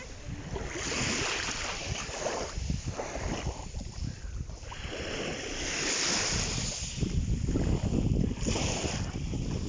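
Sea waves wash steadily onto a shore while gusty wind buffets the microphone at the seaside, a continuous loud surf roar with no voices.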